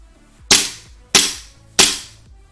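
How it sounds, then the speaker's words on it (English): Three sharp, loud shots from an airsoft gun with an advanced mid frame installed, fired as a desk pop test. The evenly spaced cracks each decay quickly, alone with no talk. "Sorry, it's a little loud."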